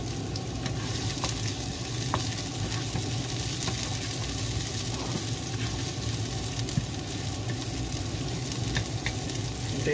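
Onion frying in a pan for callos, a steady dense sizzle with a continuous crackle running the whole time, close and fairly loud, with no voices over it.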